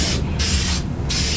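Metallic paint sprayed in short mist bursts onto a flocked Christmas wreath, two loud hissing sprays close by with a brief pause between them.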